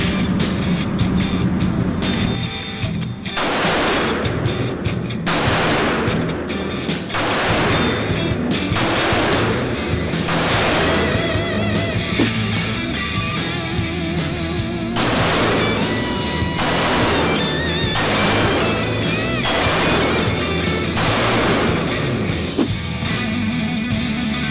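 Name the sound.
FNX-45 pistol shots fired at a shooting range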